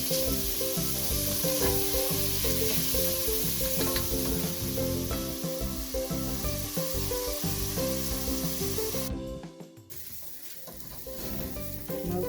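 Onions fry in hot oil for beef pilau, a loud, close sizzle with steady stirring scrapes throughout, dropping sharply near the end before the frying hiss picks back up.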